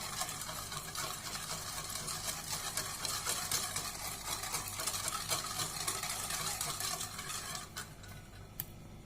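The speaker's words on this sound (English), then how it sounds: "let's just mix, and we have to mix till the sugar is completely dissolved" Cake batter for an eggless herbal coffee cake is stirred with sugar added, making a steady, close, continuous scraping swish with faint utensil clicks near the end.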